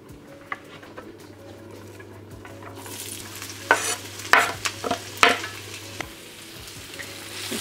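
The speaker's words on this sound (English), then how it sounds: "I'm going to literally fry the onion and the chili." Onion and chili frying in a pan for a store-cupboard vegetable chilli, a soft steady sizzle with a low hum beneath and several sharp scraping stirs and clicks of a utensil in the middle stretch.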